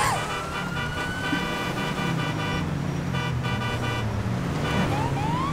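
Emergency vehicle siren running code three during a GTA 5 police chase, a steady wailing and yelping tone over car engine noise throughout, loud and continuous.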